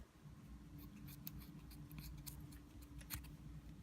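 Scissors snip through the leftover strands of a five-color paracord bracelet, several quick faint cuts close by over a steady low hum of room noise.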